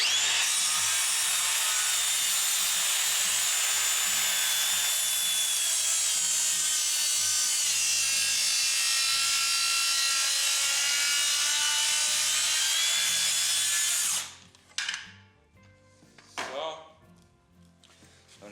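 A Makita DHS680Z cordless circular saw cuts through wood with a loud, continuous whining rip that lasts about fourteen seconds, then spins down, followed by a few knocks and handling sounds.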